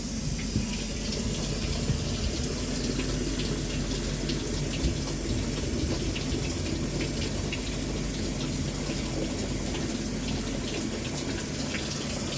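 Water runs steadily into an LG Inverter WT-1385TH coin-operated washing machine that never shuts off its fill, a continuous gushing stream held at an even level throughout with no voices.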